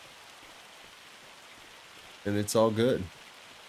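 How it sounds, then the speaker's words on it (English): Steady light patter of tiny hailstones falling across the Farming Simulator 25 game world, a continuous even hiss throughout, with someone briefly talking near the end. "Ah, it's hailing. Teeny tiny little hailstones."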